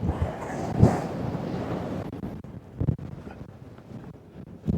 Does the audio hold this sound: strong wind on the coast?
yes